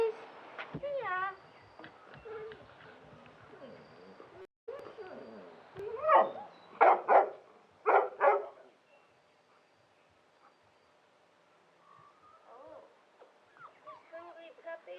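Hungry puppies yip and whimper in short high-pitched bursts, with a cluster of louder yelps partway through and quieter sounds near the end. A person's voice is heard at times.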